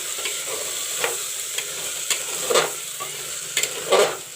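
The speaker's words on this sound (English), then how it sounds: "Mix the peas with the masala nicely." Peas are stirred into frying masala for matar ki sabji, a steady sizzle broken by repeated spoon scrapes and clinks against the pan, close and fairly loud, with no talking.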